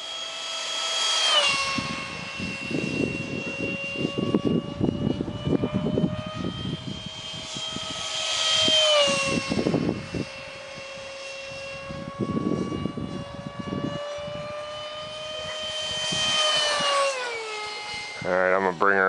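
An RC F1-17 stealth fighter jet with a 70mm Detrum EDF flies past, its steady high whine rising and falling in pitch as it passes near and away, with a voice speaking intermittently over it.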